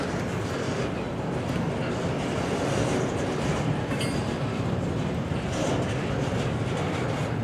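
A CSX freight train pulled by four GE locomotives rolls past carrying containers, a steady mid-distance rumble of wheels and rail noise with a faint clickety-clack throughout.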